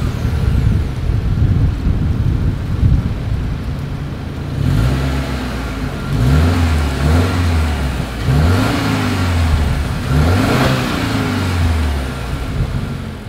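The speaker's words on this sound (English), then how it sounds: "As always, here is that exhaust clip." A 2023 Subaru Ascent, Subaru's largest SUV, sits with its dual exhaust outlets and chrome tips: a steady idle, then several loud, close revs rising and falling in quick succession, with no talking.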